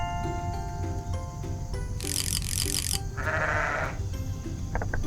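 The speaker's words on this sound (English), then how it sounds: "Sheep." Sheep bleat in a farm field: one drawn-out bleat rises clearly midway through, amid low background rumble and a few faint clicks.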